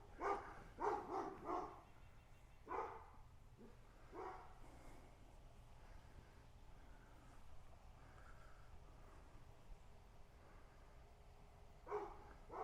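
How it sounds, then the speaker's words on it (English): A dog barks in several short bursts at a distance, with a couple of later barks, otherwise quiet background. "that dog's barking loud over there"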